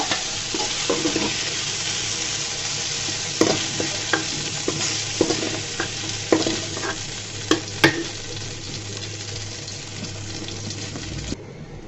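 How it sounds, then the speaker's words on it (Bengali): Okra frying in hot oil in a pan, a steady loud sizzle broken by repeated scraping knocks of a spatula stirring, several distinct strokes spaced a second or two apart before the sizzle briefly drops near the end. "ঢেঁড়সটাকে আমি একদম ভাজা ভাজা করে নিয়েছি"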